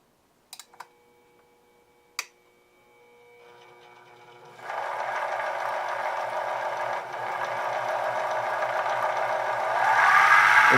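A LittleMachineShop Nano Mill, a small benchtop micro-machining mill, clicks a few times as it is switched on, then its motor whirs up into a steady, loud, rising mechanical whine.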